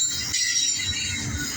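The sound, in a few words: CSX intermodal freight train passing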